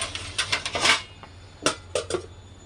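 A pot of freshly kneaded atta dough is covered with its lid. A series of close, sharp metallic clatters and knocks comes in irregular bursts with brief pauses between them.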